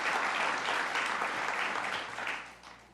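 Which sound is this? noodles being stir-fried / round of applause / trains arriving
round of applause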